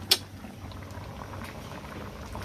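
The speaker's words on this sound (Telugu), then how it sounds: "కాస్త మరిగిన తర్వాత అలాగే ఉడకబెట్టేసి బాగా ఇంకా మెత్తగా అవుతుంది" Tomato coriander dal bubbles gently in a pot, a soft, steady simmering hiss with one sharp little pop near the start and faint patter throughout.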